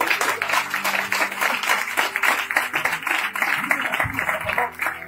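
A church congregation applauds, with dense, steady clapping that continues for about five seconds alongside sustained tonal music.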